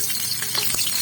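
Onions frying in hot ghee in a kadai for chicken biryani, a brief steady sizzle with soft crackle throughout.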